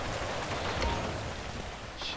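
Steady rain pours outdoors as a constant broadband hiss, close and even throughout, with no voices.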